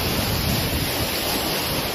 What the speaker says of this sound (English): All the waves were coming in close and straight.